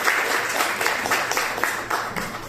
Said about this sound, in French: Donc si on peut l'applaudir